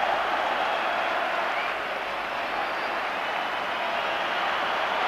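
Football crowd at Ibrox Stadium applauding a Rangers player leaving the field during a match against Hearts, heard as a dense, unbroken wash of clapping and crowd noise, distant and steady throughout.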